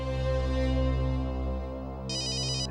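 A phone ringtone chimes in a quiet room, a bright repeating electronic pattern starting near the end over a steady low background hum, with no talking.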